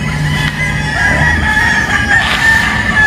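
Chickens and roosters on a large all-weather poultry farm in the Philippines, steady loud clucking and crowing over a dense constant flock din.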